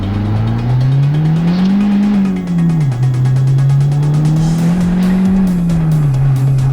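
A built Mazdaspeed3 on solid mounts accelerates under turbo boost. The engine note is loud and close, rising and falling through the gears as the car pulls hard.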